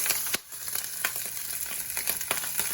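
Onions frying in oil with a little added fat, a steady crackling sizzle with a few sharper pops and stirring clicks, close and moderately loud, no voices.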